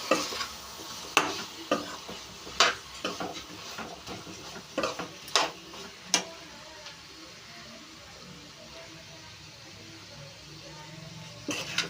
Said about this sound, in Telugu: ఇప్పుడైతే కర్రీలో వేసేసుకుని కలిపేసుకోవడమేనండి